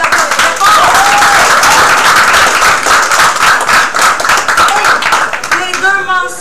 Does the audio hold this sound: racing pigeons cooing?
no